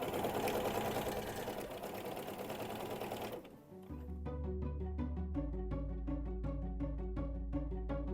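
A sewing machine understitches a neckline seam on a top, humming steadily and closely for a few seconds before the sound changes into a regular pulsing rhythm.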